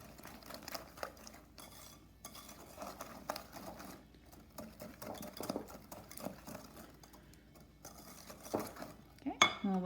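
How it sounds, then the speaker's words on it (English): Batter for chocolate chip blondies whisked in a bowl, with a steady run of soft clinks and scraping stirs of the whisk against the bowl, close and moderately quiet, with a brief louder rattle at the end. "Okay, we'll whisk the last one in."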